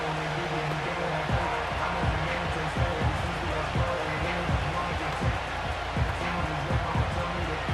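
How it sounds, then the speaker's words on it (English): A packed stadium crowd at a Houston Texans at Tennessee Titans football game roars continuously, with regular rhythmic thumps, like stomping or drumming, pulsing through the din. "We can feel this crowd all the way up here in the press box, Mike."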